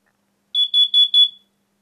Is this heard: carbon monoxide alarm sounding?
yes